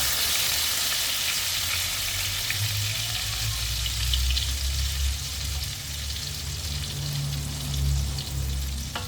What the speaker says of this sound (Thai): แล้วก็ทอดใจเย็นๆนะคะ เพราะว่ามันมีหมูสับด้วยจะได้สุกนะคะ